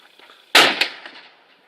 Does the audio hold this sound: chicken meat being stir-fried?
no